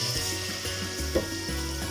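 Steady low sizzle of coconut cream frying in a pot for green curry chicken, with a faint stirring clunk partway through.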